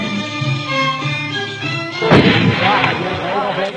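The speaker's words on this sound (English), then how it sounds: "the Sufyans welcome Sheikh Abdullah and the Ahmars, showing off their shooting skill" Gunfire from tribesmen showing off their shooting skill at a mountain welcome: a single loud, booming report cracks out midway, followed by a rumbling wash of noise over steady chanting or singing.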